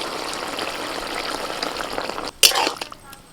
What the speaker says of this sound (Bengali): এর মধ্যে এবার অল্প করে একটু জল দেবো একদম অল্প